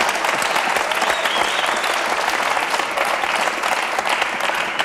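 Television studio audience applauding on a French talk show, a loud, dense and steady burst of clapping from the whole crowd, unbroken for several seconds with no voices on top.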